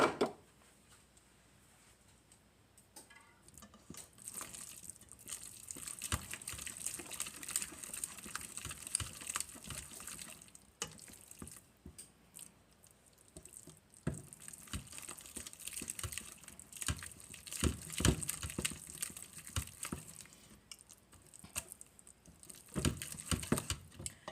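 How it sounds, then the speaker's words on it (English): A whisk beats sweet potato pie filling in a bowl, making a steady, rapid patter of light clicks and wet taps that swells and eases over a long stretch, close and moderately quiet. "so I'm going to switch to a whisk"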